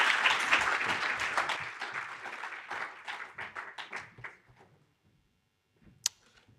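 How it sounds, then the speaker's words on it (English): An audience at a United Nations anniversary event applauds a panel, the dense clapping loud at first and then thinning into scattered individual claps before fading to near silence, followed by a single sharp knock. "We can give them another hand of applause"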